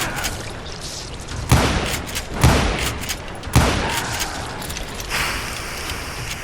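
Three spaced gunshots ring out in the Western shooter game Call of Juarez: Gunslinger, each a sharp crack with a short echoing tail over a low ambient bed, followed by softer game noise.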